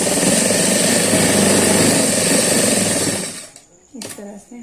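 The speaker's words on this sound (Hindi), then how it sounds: "हमने ये जो मार्क किया है इस पर हम पहले सिलाई कर लेंगे दोनों पे" An electric sewing machine stitches steadily along a marked line on kurti jacket fabric, a loud continuous mechanical whir that runs for about three seconds, then stops, leaving brief handling noises.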